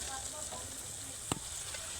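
Softened onion and freshly added chopped tomato sizzle steadily in hot oil for a fish curry, a close, even frying hiss with one short clack partway through.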